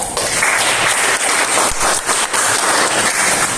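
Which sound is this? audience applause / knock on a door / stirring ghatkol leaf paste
audience applause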